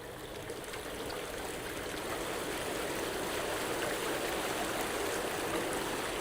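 Hot tub jets run with the air valve open, giving a loud, continuous rushing and bubbling of churning water that holds steady from start to finish.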